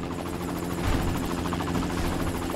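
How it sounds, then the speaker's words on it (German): A helicopter flies overhead outdoors, its steady broadband rotor roar and rhythmic chopping filling the whole stretch at a constant, fairly loud level. "Ach, Hubschrauber, hau ab."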